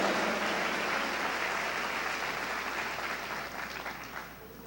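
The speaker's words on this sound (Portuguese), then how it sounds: "Quer aplaudir o Senhor, aplauda." A church congregation at a Sunday celebration service applauds in a dense, sustained wash of clapping that eases slightly toward the end, with faint voices mixed in.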